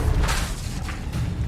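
Confringo blasting spell detonating in Hogwarts Legacy on hard mode, a loud low boom with rumbling bursts and a second swell of crackling debris toward the end.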